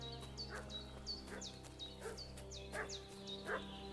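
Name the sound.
dog barking in Kingdom Come: Deliverance 2 video game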